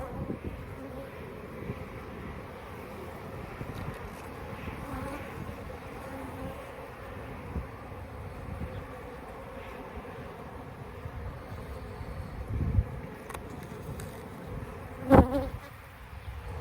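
Honeybees buzzing around an open hive full of honey stores during a spring inspection, a steady low swarm hum with light wind and a few handling knocks.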